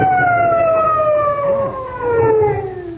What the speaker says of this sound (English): I can still hear them sirens.